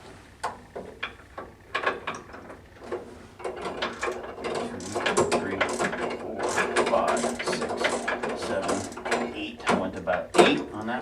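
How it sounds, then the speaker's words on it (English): Wrench tightens a nut while replacing the glass on a 209 Progress Hybrid stove, making intermittent ratcheting clicks in short irregular runs, fairly quiet and close. "Hold this against the stone as you're tightening the nut"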